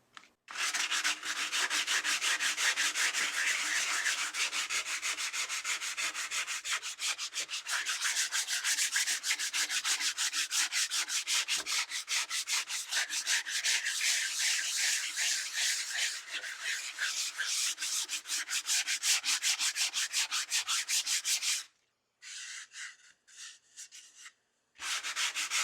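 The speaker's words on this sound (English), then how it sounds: "let's sand this." Wood is sanded by hand in a long, steady run of rhythmic raspy back-and-forth strokes, close and loud, ending in a few short separate scrapes after a pause, with no talking.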